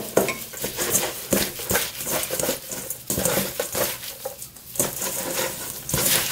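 Pepper leaves are mixed by hand with an all-purpose doenjang seasoning sauce, making repeated close, wet rustling and squishing sounds with occasional light clinks from a bowl.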